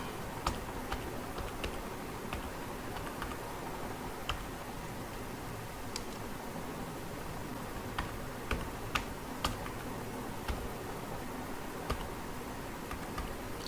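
Fingers type on a computer keyboard, making sparse, irregular clicks and taps at close range that stay fairly quiet against a soft background hiss.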